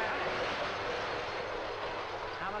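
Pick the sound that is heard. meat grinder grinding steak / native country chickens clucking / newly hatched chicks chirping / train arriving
train arriving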